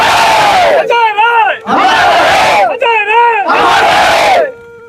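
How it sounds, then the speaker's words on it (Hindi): A large, loud crowd chants slogans in unison at a rally, three long roaring shouts in a row with brief gaps where a single leading voice calls out, ending in quiet. "वो लोग जो अभी बहुत लंबे चौड़े नारे लगा रहे थे"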